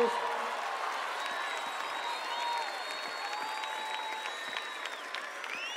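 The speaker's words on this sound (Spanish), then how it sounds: "Fuerte aplauso para los" Audience applause and cheering in a crowd at the final of the FMS Argentina freestyle rap battle, a sustained wash of clapping across the clip with voices and whistles mixed in.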